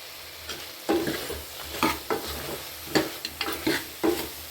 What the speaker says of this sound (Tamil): ஒரு 5 நிமிஷம் நல்லா எண்ணெயிலே வதக்கி விடுங்க.